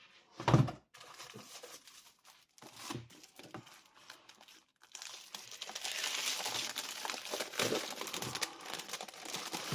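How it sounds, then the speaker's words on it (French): New art supply collection unwrapped from its packaging after the cardboard has been removed: a sharp thump, then scattered taps and crinkles, building into a steady, close plastic rustle and crackle. "Alors, on va déballer cette collection que je ne connais pas. J'ai retiré le carton"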